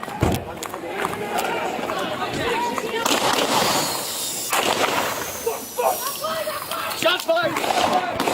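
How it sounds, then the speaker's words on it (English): Gunshots ring out during a police encounter with an armed suspect: a few sharp, loud bangs scattered among frantic shouting voices and crowd noise. "Shots fired!"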